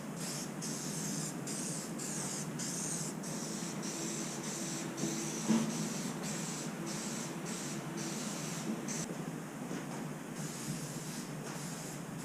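Meguiar's headlight coating hisses out of a 4-ounce aerosol can onto a car headlight lens in a steady, soft spray, broken by short regular bursts as the can sweeps back and forth.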